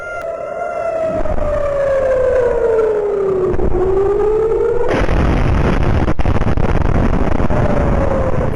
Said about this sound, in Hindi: देखिए सायरन साउंड कर रहा था वहां पर